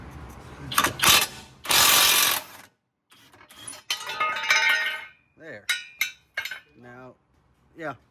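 Last bolt taken off a Ford Fusion steering rack with a ratchet, with loud bursts of mechanical rattling and clicking, then metallic clinks alongside brief speech near the end, all close up.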